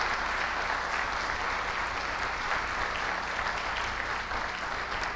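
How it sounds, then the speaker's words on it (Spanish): A church congregation applauds in welcome, a steady wash of many hands clapping at a moderate distance, even and continuous throughout without talk. "con todo el corazón te mandamos un aplauso de bienvenida"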